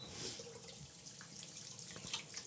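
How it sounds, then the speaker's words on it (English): A slant safety razor rinsed under running tap water, heard as a faint, steady trickle with a few light drips and taps throughout the short stretch. "Let's give that a rinse."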